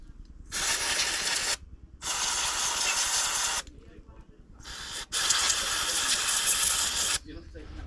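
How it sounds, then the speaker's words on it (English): Aerosol carb cleaner sprayed onto a Zama carburetor from a Stihl MS200T chainsaw, in three loud sustained hissing bursts of roughly one to two seconds each with brief quiet gaps between them. "So just cleaned that with the carb cleaner."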